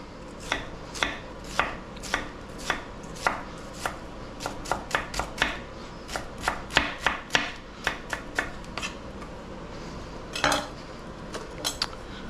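A knife dices a quarter onion on a cutting board, giving quick, irregular chops that come in bursts and pauses, close and crisp, with no talking.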